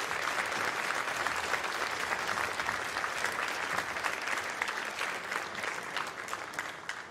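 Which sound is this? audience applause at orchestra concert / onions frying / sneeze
audience applause at orchestra concert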